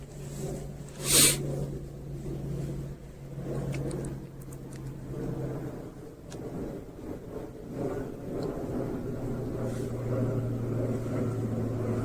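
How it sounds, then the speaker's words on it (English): A passing airplane overhead gives a steady low engine drone that lasts the whole stretch, rising and falling gently with no talk over it. "Just waiting for that plane to go."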